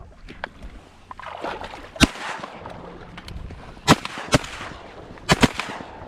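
About five sharp shotgun blasts ring out at ducks during a duck hunt in Arkansas, some spaced apart and two in quick succession, over a background of splashing and rustling.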